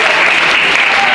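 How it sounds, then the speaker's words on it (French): Dense, steady applause from a conference audience fills the whole moment, loud and close, a continuous wash of clapping with no pauses. "Un applaudissement pour Thomas Pijouet, aussi président des Vos"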